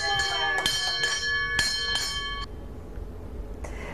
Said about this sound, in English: that ringing of the bell is a tradition at the wound care unit as you leave your last appointment